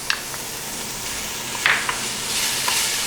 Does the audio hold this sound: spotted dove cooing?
no